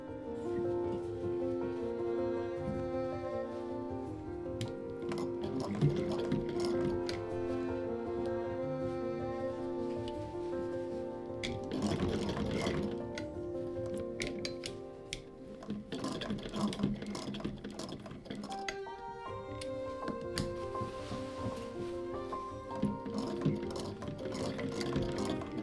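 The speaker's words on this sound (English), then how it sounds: "we are going to run our sewing machine" A sewing machine stitches over an opened side seam near a trouser waistband to reinforce it. It gives a faint, steady mechanical whir in several runs with brief pauses between them.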